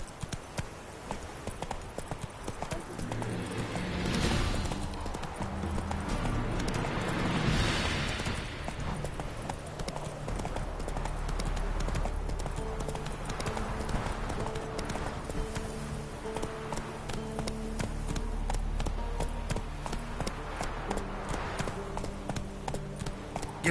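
A horse gallops in The Witcher 3, its hooves clip-clopping in a quick steady rhythm for the whole stretch, with occasional low rumbles and game effects mixed in.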